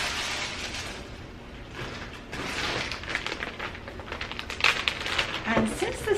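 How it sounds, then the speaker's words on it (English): A plastic bag being folded and rolled up while an eBay order is packed for shipping, giving close, steady crinkling and rustling with sharper crackles near the end. "Plastic bag."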